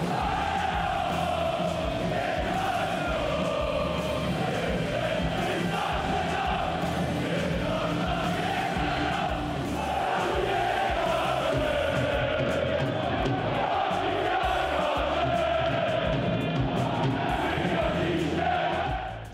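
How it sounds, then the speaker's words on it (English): Polish GKS Katowice fans at an ice hockey game against Herning Blue Fox of Denmark, a dense, continuous roar of crowd chanting and cheering that stays loud throughout. "with the Katowice fans bringing a deafening level of support for their side"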